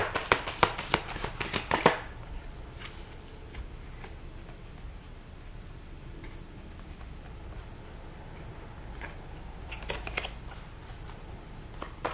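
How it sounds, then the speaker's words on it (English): An oversized tarot card deck gets shuffled in quick riffling bursts at the start and again near the end, close and crisp, with quiet handling between. "this deck has a lot of cards in it. It's more than usual, so a bit harder to handle when you're shuffling them"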